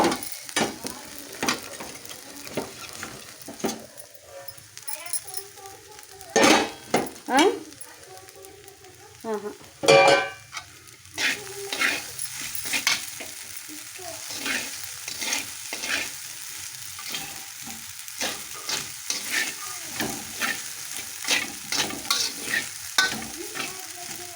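Spice paste and sago sautéing in a home kitchen pan for sabudana khichdi, with steady sizzling and frying hiss broken by repeated scraping and stirring strokes, some sharp clanks of the utensil, and occasional quiet talk.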